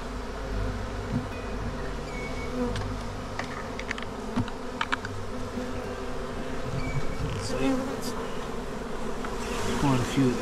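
A honeybee swarm buzzes steadily and close in a backyard, a dense droning hum with individual bees zipping past now and then.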